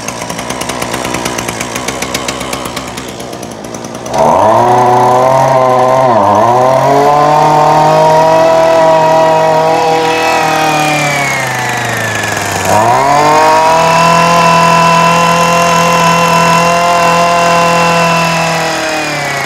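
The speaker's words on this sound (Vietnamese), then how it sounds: "Mình sẽ test nổ sơ qua này" A 26cc Japanese chainsaw engine starts after a brief pull and runs loud and close, holding a steady buzzing idle, revving up around six seconds and again near thirteen seconds, then settling into a high sustained drone.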